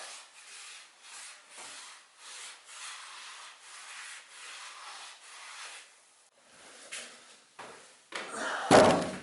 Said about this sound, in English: And then I'm just rubbing the excess off with a cloth.